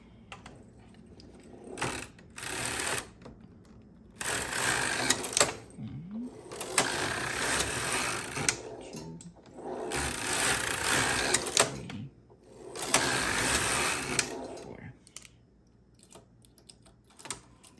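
A sock knitting machine runs in repeated bursts as its carriage sweeps across rows, each pass a few seconds of busy mechanical rattling and clicking, separated by quieter pauses with small handling noises.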